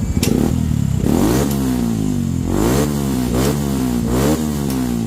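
A motorcycle with a converted aftermarket exhaust pipe revs loudly and repeatedly, its deep exhaust note rising and falling in several throttle blips, close up with no talking.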